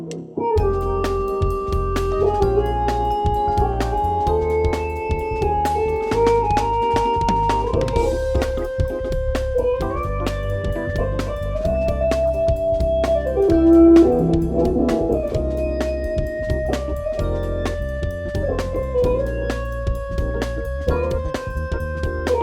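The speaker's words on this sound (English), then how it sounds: "then you really get a good line constructed of seconds" Solo melodic line moving in half and whole steps over a backing of minor chords, played steadily and clearly throughout with no talking.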